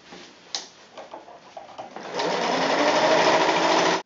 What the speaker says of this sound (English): And now you sew.